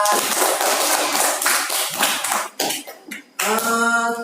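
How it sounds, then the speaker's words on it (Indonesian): A classroom of students claps briefly, a quick burst of close, uneven hand claps that thins out and stops, followed by a voice starting up. "tepuk tangan dulu, Duta."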